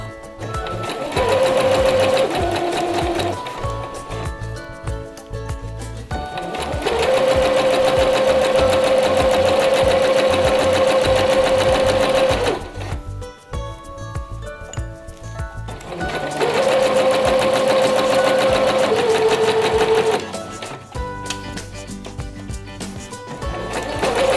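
Sewing machine stitching close to the edge of a visible zipper, loud close mechanical hum in three long runs separated by short pauses and quieter whirring.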